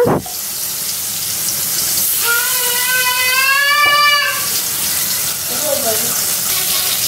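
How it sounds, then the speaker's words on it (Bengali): Rohu fish pieces frying in hot oil in a home kitchen, a loud, close, continuous sizzling hiss that runs throughout, with a brief whistling tone partway through. "রুই মাছ ভেজে নিচ্ছি"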